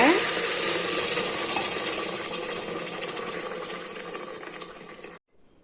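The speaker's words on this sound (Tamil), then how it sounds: "இப்போ இந்த பருப்புக்கு தேவையான தண்ணி ஊற்றிடலாங்க." Steady gush of water pouring into a pot of roasted green gram (mung beans), rising slightly in pitch as it fills, then stopping abruptly.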